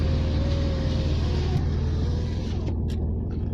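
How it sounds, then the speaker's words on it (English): An Alfa Romeo 156 with its V6 engine idling, a steady low rumbling burble held close throughout, with a few faint ticks from a nearby flagpole. "I'm going to leave the engine running because it sounds so nice."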